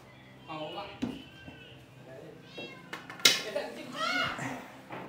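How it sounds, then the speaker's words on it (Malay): A cat meowing near a snake enclosure being cleaned, several drawn-out meows rising and falling amid people talking, including children's voices. "Alah kucing di belakang."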